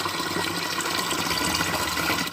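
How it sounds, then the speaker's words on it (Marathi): Water runs from a hose with a cloth tied over its end as containers are filled at home early in the morning, a steady close rushing hiss with no break. "पाणी भरायचं काम चालू आहे पाच वाजले नळीला फडकं लावून आता काम करते"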